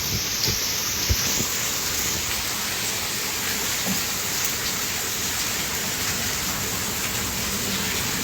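Heavy rain pours steadily during a hailstorm in Thakurgaon, a dense unbroken roar of water on surfaces with a few sharp knocks from hailstones striking nearby.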